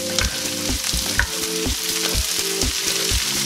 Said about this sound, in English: let's add the cubed tri-tip